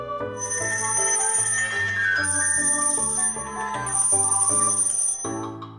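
Bright, repeating telephone-style bell trills ring in bursts over a bouncy musical accompaniment in a children's song, loud and close with no speech.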